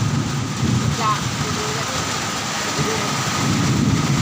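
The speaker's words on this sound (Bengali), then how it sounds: "বিশাল বৃষ্টি হচ্ছে, মেঘ ডাকাডাকি করছে।" Heavy rain pours steadily at a constant loud level, with a low rumble that may be distant thunder, running throughout under a faint voice.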